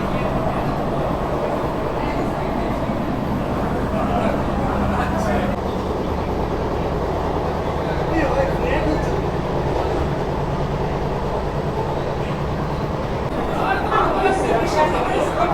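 West Bengal's first AC local train on the Sealdah to Ranaghat line, running fast through Belgharia station without stopping, with a loud, steady rumble and rattle heard from inside the carriage for the whole stretch.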